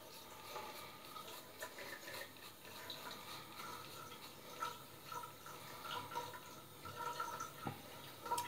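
A sink of water being swished by hand underneath to rinse long shaved hair, a soft, continuous watery slosh at low volume with no talking.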